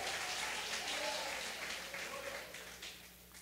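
Church congregation applauding at a worship service, a steady wash of many hands clapping at a moderate distance, gradually fading, with a voice faintly present beneath.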